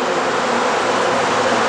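A swarm of more than 20,000 bees clinging to a Malaysian man's body makes a dense, loud, continuous buzzing drone that stays steady and close throughout, with no voices.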